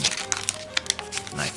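Sheets of paper crinkle and snap as they are creased into an origami heart, a quick run of close, crisp rustles with a voice talking over them.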